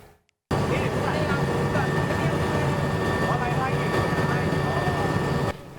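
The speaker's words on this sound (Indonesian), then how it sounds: "pantauan udara dari helikopter Puma milik TNI di atas Gunung Semeru" A Puma military helicopter of the Indonesian armed forces flies over erupting Mount Semeru in Lumajang, East Java, producing a loud, steady rotor and engine roar that starts abruptly and holds unbroken for about five seconds.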